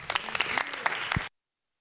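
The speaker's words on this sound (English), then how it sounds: "I would like one more round of applause because that was absolutely phenomenal" A room of people applauding at a student government meeting, dense clapping of moderate loudness that cuts off abruptly after about a second, with no talking.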